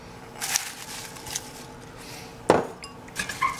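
A spoon stirs and clinks against a pot of rustic heirloom tomato pasta sauce with basil leaves. There are several sharp metallic taps and scrapes, one louder knock midway, and no talking.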